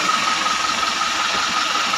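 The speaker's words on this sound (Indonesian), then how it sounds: "Jadi mesin counter Euro 4 itu dipasang di sini." A Mitsubishi Canter Euro 4 diesel engine fitted in a medium bus with New Armada Toristo bodywork runs steadily, a continuous close hum and whine without speech.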